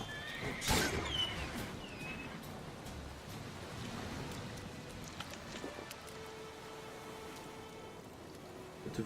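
A horse in the video game The Witcher 3 lets out one sharp, loud whinny near the start, followed by soft hoof clops under steady rain.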